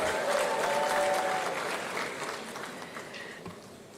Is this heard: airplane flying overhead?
no